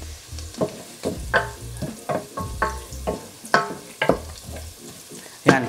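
Garlic sautéing in a pan over medium heat for pork binagoongan, with a steady sizzle broken by repeated stirring scrapes of a utensil against the pan, close and clear.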